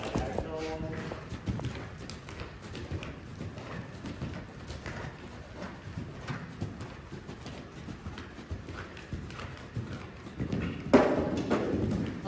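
Horse hooves thudding and clip-clopping on an arena surface during a show jumping lesson with a Grand Prix horse, a continuous rhythmic beat of strides under a person talking, with a louder thump near the end.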